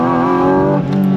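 A 2025 Porsche 718 Cayman GT4 RS with a 4-liter flat-six holds a loud, close, steady engine note, then dips briefly and climbs again. No one talks over it.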